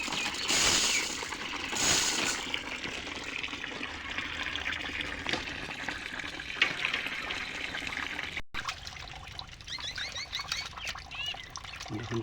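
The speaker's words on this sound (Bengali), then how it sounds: "দেখুন চাল কীভাবে ধুতে হয়" Rice grains for puffed rice are washed in water: steady sloshing and trickling, with stirring clicks and splashes, continuing close and moderately loud for most of the stretch, broken by a brief gap near the end.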